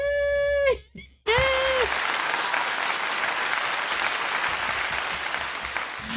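A short run of bright electronic tones cuts off, then steady, close clapping with a cheering wash fills the rest, continuous and fairly loud, as audience applause during a live-streamed card-making craft show.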